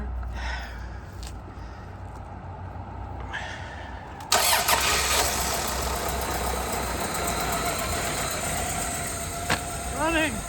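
Mid-size engine cranking briefly, then catching and settling into a steady running idle, heard up close with light background noise.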